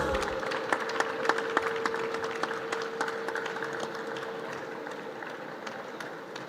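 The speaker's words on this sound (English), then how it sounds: "Big applause for her." Steady sustained applause from an audience at the Valencia Half Marathon 2024 international press conference, dense clapping filling the room throughout with a faint tonal hum underneath.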